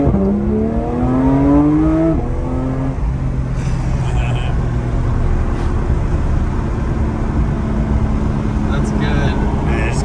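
A Porsche 992 GT3 engine revs up in rising, climbing sweeps early on, then settles into a steady loud drone while people talk over it.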